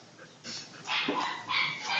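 A dog yips and barks in short, whiny bursts close to the microphone, a few yelping calls mixed with whimpering, fairly soft and with no one talking over it.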